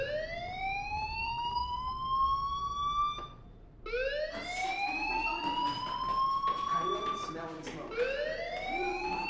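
A fire alarm sounds in the video game Life is Strange: repeated rising electronic wails, loud and near, one cycle cutting off briefly before the next begins.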